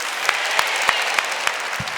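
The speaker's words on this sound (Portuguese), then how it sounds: "Agora eu que vou aplaudir você" Sparse, scattered hand claps in a church over a steady broadband hiss, about one clap every third of a second, sounding more like a thin smattering than a full ovation.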